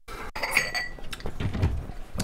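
A glass clinks and rattles against dishes while someone gets a glass of milk in a home kitchen. Several bright taps are followed by softer knocks and shuffling, close by and without talk.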